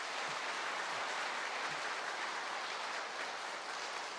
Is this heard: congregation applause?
yes